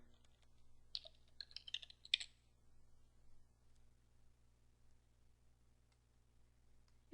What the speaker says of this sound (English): You're going to have to type in your root password.